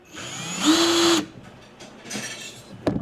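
A power drill whirs briefly at high speed, boring a larger hole in a Trackmaster toy train, then a few shorter mechanical bursts and clicks follow, close by.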